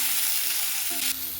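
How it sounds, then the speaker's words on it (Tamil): Tamarind leaves sautéing in oil on a low flame give a steady, even sizzle with a few faint stirring scrapes, close and alone. "இது லோ ஃப்ளேமில் வதக்கிக்கலாங்க"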